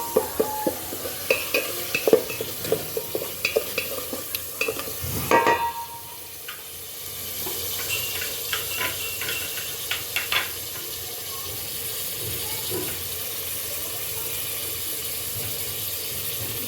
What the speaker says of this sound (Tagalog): Lulutuin po na natin yung isda. Bago natin, lagyan natin ng konting tubig.